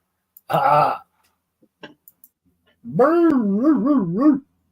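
A hound dog gives a short strained bark-like cry, then after a pause a longer wavering, warbling whimper-howl, close and fairly loud, with a few faint clicks between.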